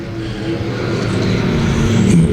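Race cars roar around the Thunder Hill track on the opening lap of a heat race, a dense, steady engine drone building slightly in loudness as the pack passes close by, with no talk over it.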